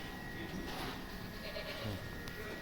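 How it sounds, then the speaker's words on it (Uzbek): Dairy goats bleat faintly amid a noisy, crowded barn ambience in the Netherlands, with scattered animal calls blending into a steady background hum. "Yeli hamma sut beradigan echki ekanda bular."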